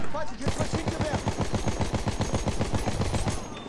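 Battlefield 1 gunfire rattles in a fast, evenly spaced machine-gun burst of about two dozen sharp shots, loud and close, with brief talking near the start.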